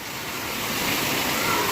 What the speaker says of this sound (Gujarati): એટલો વરસાદ છે ભયંકર વરસાદ છે